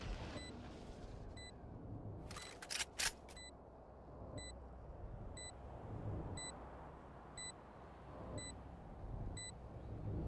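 In a Valorant match, the planted spike beeps at a regular interval of about one second, a thin high tone repeating over the game's background rumble, with a short burst of louder gunfire partway through.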